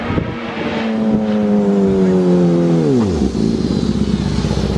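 BMW S1000R and S1000RR motorcycles race past on a street, engines roaring loudly at high revs before the pitch drops sharply as they pass close by, then fade into faint background noise.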